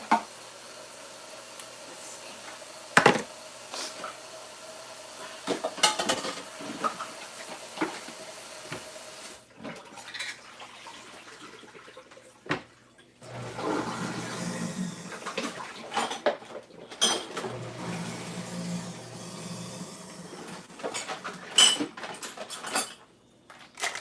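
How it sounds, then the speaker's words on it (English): Dishes and utensils being hand-washed at a sink, with scattered clinks and clatters of plates and cutlery, bursts of running water, and quiet gaps in between. "to wash a few dishes."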